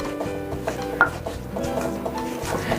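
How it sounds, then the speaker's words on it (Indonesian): Repeated dull pounding and grinding of young banana in a stone mortar, steady and close, with soft scraping between heavier strikes. "Langsung saya ulek ya pisang keluduknya"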